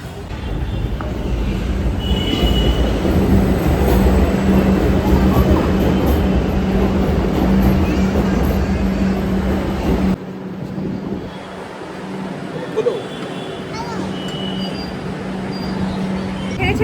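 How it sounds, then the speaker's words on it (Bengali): A metro train pulls into a Kolkata station with a loud, sustained rumble and steady roar that drops abruptly partway through as it slows, with a brief clank afterward. "ঢুকে গেছে মেট্রো"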